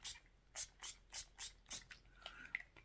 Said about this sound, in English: Oh yeah, we've got this setting spray too.